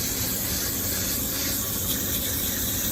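Steady broadband spray of water rinsing built-up gunk from the coil of a Carrier HVAC condenser, a close, continuous hiss without break or voices.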